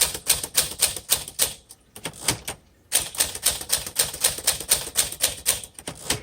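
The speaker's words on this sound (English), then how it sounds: "It's still a really good typewriter." A 1952 Smith Corona Silent manual typewriter types in rapid, crisp key strikes, close and loud, with a brief pause mid-run before the rhythmic clacking resumes.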